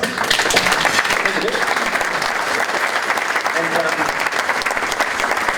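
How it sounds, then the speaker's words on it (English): A morning gathering of people gives a steady, full round of applause, a continuous dense wash of many hands clapping at even loudness throughout, with a few voices faintly mixed in. "Let's give you a round of applause."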